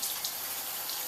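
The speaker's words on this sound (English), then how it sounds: "fill the bottle up" Water runs from a tap into a filter bottle being filled, a brief, soft, steady hiss of flowing liquid with no voices.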